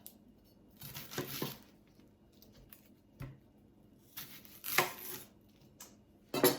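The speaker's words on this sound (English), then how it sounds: "let's cut this onion up" A knife chops a large onion on a board, producing a few scattered crunchy cuts and slices with pauses between, close and fairly quiet, no talk.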